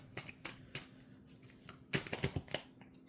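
Soft, crisp riffles and flicks of tarot cards being shuffled, a few spaced bursts followed by a quicker cluster, close and quiet.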